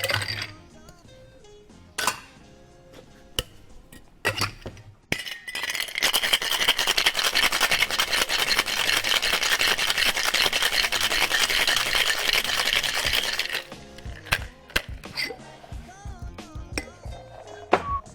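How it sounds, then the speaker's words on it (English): A cocktail shaker loaded with ice for a lemon-juice cocktail: a few loose clinks of ice going in, then about eight seconds of loud, steady rattling as it is shaken hard, followed by scattered clinks. "fill the shaker with ice and give it a good shake"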